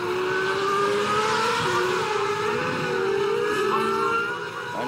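Superleague Formula race cars run on a wet track at Zolder in foul conditions, their engines a loud, continuous high-pitched whine with tyre spray hiss that fades slightly at the end.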